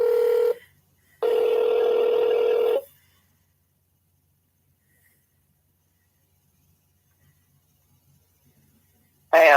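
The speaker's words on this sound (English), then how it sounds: "I got him right here on my phone. Let's call him." Phone dialing tones as a call is placed to a racing podcast guest: two sustained electronic tone bursts, each about a second long, then near-silence and a brief ring or voice at the very end.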